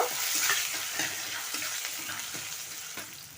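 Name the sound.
dried chillies and panch phoron sizzling in hot oil, stirred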